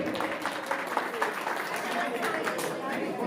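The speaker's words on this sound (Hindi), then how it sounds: "ताली से स्वागत करना चाहिए" Audience applause at an award ceremony where a Madhya Pradesh minister addresses a Banjara gathering, a steady mass of clapping sustained throughout, with a voice speaking over it.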